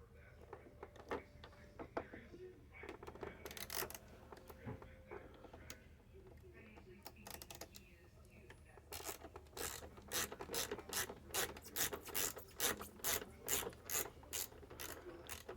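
Rapid ratchet clicking comes in repeated bursts as bolts are loosened on an original Xbox console, close and crisp, with quiet handling noise between strokes.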